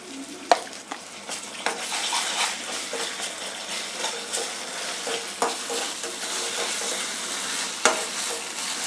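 Ginger garlic paste fries with softened onions, coriander and green chillies in a pan, a steady sizzle broken by sharp clinks and scrapes of a spoon stirring, close and fairly loud.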